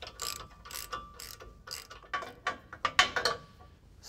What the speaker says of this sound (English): Using this torsion bar tool, you can take out the adjustment stop and then unload the bar.